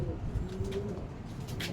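Pigeons coo close by in a soft, steady series of low, rolling calls that stand alone without any talk.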